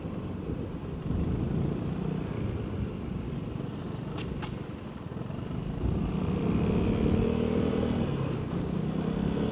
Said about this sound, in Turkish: egzoz sesi bile farklı geldi